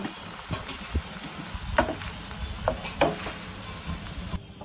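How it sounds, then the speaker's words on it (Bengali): Mushrooms and capsicum sautéing in oil in a pan for pasta, a soft steady sizzle broken by several scraping stirs, close by and fairly quiet, with no one speaking. "এই তেলেই আমি মাশরুম দিয়ে আর ক্যাপসিকাম দিয়ে সতে করে নিব"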